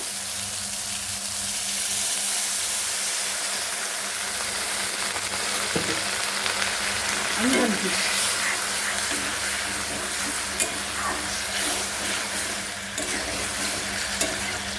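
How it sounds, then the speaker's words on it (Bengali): A frying omelette curry with potatoes hisses in a pan after a little water goes in, a steady loud sizzle that runs throughout with occasional stirring clinks. "এর মধ্যে এখন আমি সামান্য একটু জল দিয়ে দেবো"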